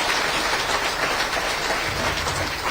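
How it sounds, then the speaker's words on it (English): An audience applauds UPSC toppers at a felicitation event, a steady dense wash of clapping from a large crowd, loud and continuous with no voices over it. "Can we have a huge round of applause to all these toppers?"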